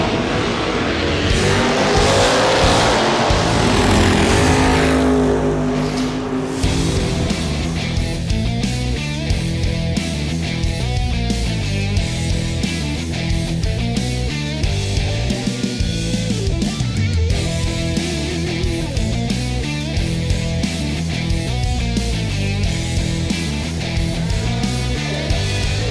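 Drag racing cars at Firebird Raceway during the Halloween Classic, engines roaring loud and close with a long revving run, then a steady rumbling drone of engine noise throughout.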